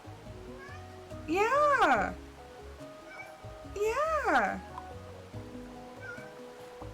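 A cat cries by a closed door, giving two long, drawn-out meows a couple of seconds apart, clear and fairly close, while a person speaks briefly in between.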